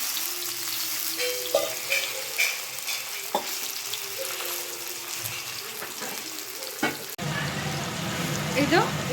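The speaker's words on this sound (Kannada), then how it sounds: "ಇನ್ನೊಮ್ಮೆ ಟರ್ನ್ ಮಾಡಿ ಇನ್ನೊಂದು ಸತಿ ಹಾಕಿದ್ದೀವಿ ಚೆನ್ನಾಗಿ ಫ್ರೈ ಆಗ್ತಿದೆ ತವಾ ಫ್ರೈ" Rani fish tawa-frying in oil, a continuous close sizzle with occasional crackles and scraping stir sounds, louder and brighter sizzle after a turn near the end.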